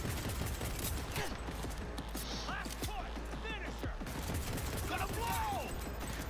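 Rapid gunfire bursts from the video game Cyberpunk crackle steadily through the scene, loud and continuous, with a voice talking over the shooting.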